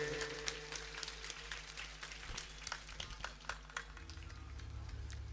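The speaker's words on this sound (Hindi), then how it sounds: "जोरदार आप ताली से स्वागत करेंगे।" Faint, scattered clapping from an audience welcoming an honoured guest at a Shri Ram Katha religious gathering, with sparse uneven claps that never build into a full ovation, fading into a low steady hum.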